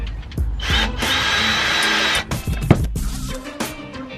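Power drill driving screws into a Sargent EC-160 fuse box in a VW T5 camper van conversion, a loud close whirring burst followed by short stuttering pulses as the screw seats.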